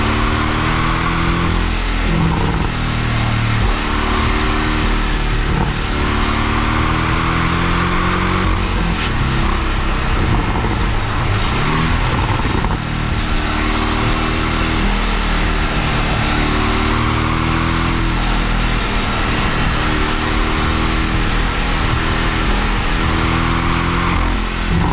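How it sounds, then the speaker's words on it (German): A Porsche 718 Boxster T with a 2.0-liter engine cruises on the road, its steady engine drone and road rumble continuous and close throughout, with no speech. "Und jetzt fahre ich hier entspannt und hole das nächste Auto schon wieder direkt ein."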